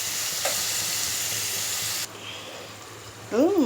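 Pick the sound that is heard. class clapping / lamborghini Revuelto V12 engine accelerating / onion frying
onion frying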